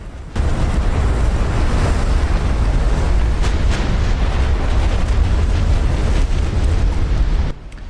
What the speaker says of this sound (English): Turret blew off and the ship's going down.